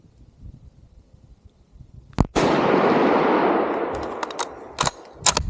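A single sharp firearm shot rings out in open woods during a deer hunt, loud and sudden after near-quiet, followed by a long rolling echo that fades over a few seconds, with a few small knocks and rustles near the end.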